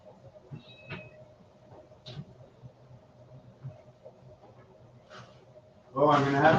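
A cat meows a few times in a home kitchen, brief faint cries scattered under a person's quiet talk and kitchen noises, before a louder burst of sound at the end.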